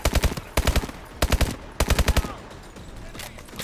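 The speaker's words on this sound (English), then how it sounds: "Oh shit, where are we getting shot from now?" Gunfire in Call of Duty: Advanced Warfare, loud close bursts of rapid automatic fire in four quick volleys, then a quieter, busier combat din.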